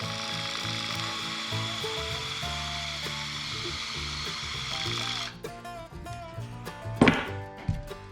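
A small electric elevator trim motor on a Vans RV-7A hums steadily and faintly in a workshop for about five seconds, then stops, followed by a few light clicks and rattles.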